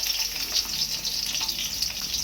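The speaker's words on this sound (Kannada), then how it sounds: "ಈಗ ಬೆಳ್ಳುಳ್ಳಿ ಒಂಚೂರು ಫ್ರೈ ಆಗಲಿ" Garlic and ginger fry in hot oil in a pan at medium heat, giving a close, steady hiss and crackle that stays even throughout a brief stretch, with no voices.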